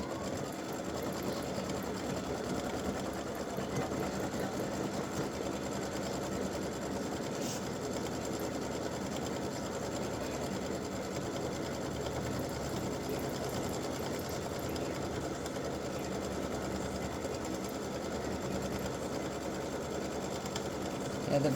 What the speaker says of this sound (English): now we're going to stitch the satin stitch